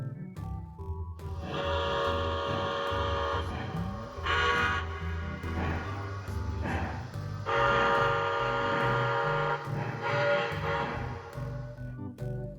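Lionel model steam locomotive running on a 4x8 layout, its whistle sounding in several long, steady blasts over a low rumble of the engine and cars, close and fairly loud, with no talking.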